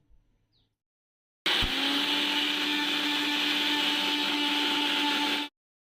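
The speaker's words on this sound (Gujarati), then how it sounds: "હવે આપણે આ મસાલાને ગ્રાઇન્ડ કરી લઈશું." An electric spice grinder whirs steadily and loudly for about four seconds, alone, as it grinds masala with Kashmiri red chili for a sweet-and-sour lemon chutney.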